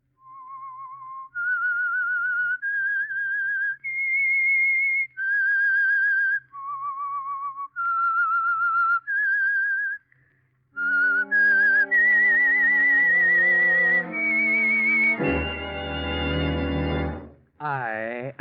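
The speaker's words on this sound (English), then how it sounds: "That whistle is your signal for the Signal Oil Program" A whistled melody of clear, pure sustained notes rising and falling as the signal for The Whistler, a 1947 radio mystery drama sponsored by Signal Oil, with orchestral music swelling up behind it in the second half.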